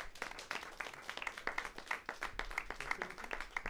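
An audience on a French-language community television show claps together, with individual hand claps standing out sharply in a quick, uneven rhythm through the short stretch.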